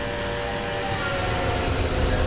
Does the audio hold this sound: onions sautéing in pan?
no